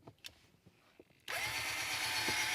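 A power drill whirs steadily as it drives a screw into a RAM Mount holster floor mount, starting abruptly after a few light handling clicks and knocks and running loud and continuous to the end.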